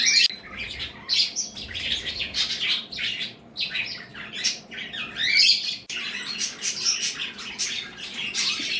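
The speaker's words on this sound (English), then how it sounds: "All my birds are chirping." Several pet parakeets chirp and squawk indoors in a busy, continuous chorus of sharp, overlapping high calls, loud and close, with no voices.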